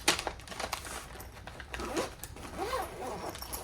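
A thick zipper on a Level 8 Luminous textured luggage case gets handled nearby, with short rasping zip strokes mixed with crinkling and rustling of the case material.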